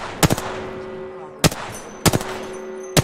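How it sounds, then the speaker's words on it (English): Bursts of gunfire in an Apex Legends style battle royale shooter, four sharp volleys spaced across the moment, close and loud over steady game ambience. "Getting shot from that side"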